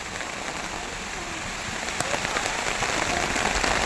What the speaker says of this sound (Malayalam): മഴ പെയ്തു തുടങ്ങി കണ്ടോ